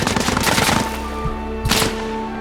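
Bursts of machine gun fire in the video game Arma Reforger, a rapid rattling stream that stops, then a second short loud burst after a pause, with a steady low game ambience underneath.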